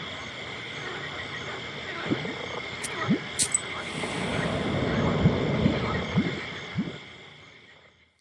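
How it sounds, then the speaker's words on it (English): Dull frog croaks from a swamp on a chilly northern night in the game Black Book, a handful of short, low calls spaced irregularly over a steady wind-like ambient hiss. "The chilled northern night air is split by dull croaks coming from the swamp"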